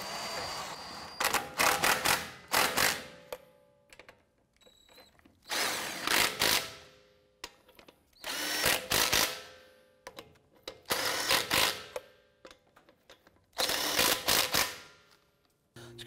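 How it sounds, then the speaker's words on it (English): A hand ratchet snugs down lug nuts on a 2011-2018 Ram 1500 wheel, five separate bursts of rapid clicking with quiet gaps between them, close and crisp. "Go ahead and snug these lug nuts down."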